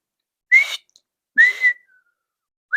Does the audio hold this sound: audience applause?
no